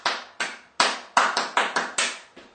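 Hands clap out a syncopated rhythm in a children's clapping game, nine crisp, close claps in an uneven pattern with no voices.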